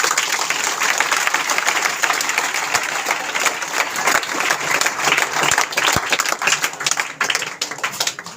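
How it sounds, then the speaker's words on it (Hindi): An audience at a sales meeting breaks into loud, energetic applause, dense clapping that holds for eight seconds with sharp individual claps standing out toward the end. "जोरदार अपने लिए ताली बजा लीजिए"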